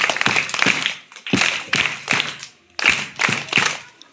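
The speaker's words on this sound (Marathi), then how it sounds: "जोरात टाळ्या." Students clap loudly in unison in rhythmic bursts of sharp, close claps, grouped in three short rounds separated by brief pauses.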